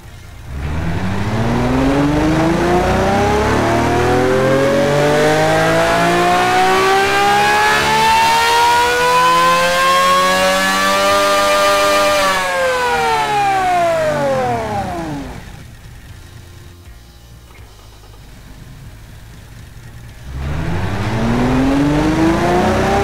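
A 4-litre naturally aspirated V12 in the Automation car-building game revs up smoothly and climbs to a high wail, falls back, idles briefly, then begins rising again; loud and alone.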